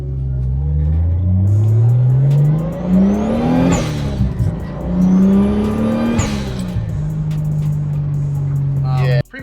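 A loud turbocharged Toyota 7M Supra engine with an upgraded CT26 turbo revs up hard several times, pitch climbing steeply with each gear before dropping, ending abruptly in a brief pause.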